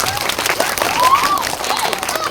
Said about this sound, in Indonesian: Tepuk tangan untuk Bu Ira.